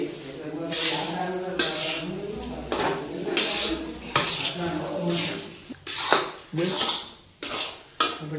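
Urad flour is stirred in a pan with a utensil, giving scraping, rubbing strokes and occasional clinks against the pan, heard under continuous talking close to the stove.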